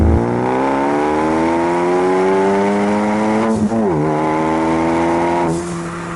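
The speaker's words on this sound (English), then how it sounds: "the funny thing about this blow-off valve though is usually you get that noise kind of from the front, but here it comes out of the back" A 2015 Ford Focus ST engine revs loudly and climbs steadily in pitch, drops away as a turbo blow-off valve sounds from the rear, then rises again and releases once more.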